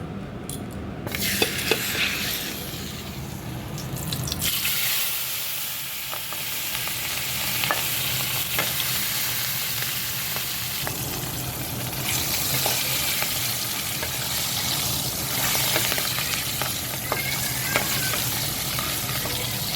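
Pieces of eggplant frying lightly in hot oil, a loud, continuous crackling sizzle that flares at the start, then settles into a steady hiss with scattered pops and occasional stirring scrapes.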